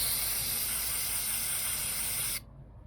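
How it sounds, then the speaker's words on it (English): Brake cleaner sprays from an aerosol can onto the MAF sensor of a 2006 Lexus RX400h 3.3 hybrid in one steady, close hiss that lasts over two seconds and stops abruptly. "I use brake cleaner that many say you should not use because it could leave some residue"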